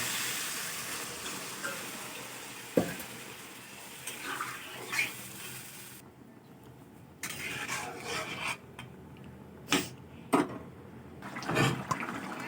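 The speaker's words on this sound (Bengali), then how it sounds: "এবার দিয়ে দেবো পরিমাণ মতো জল।" Water poured into a pan of fish curry with potato and brinjal, a soft broadband rush and splash with a few sharper clinks of the pan, close by and with no talking.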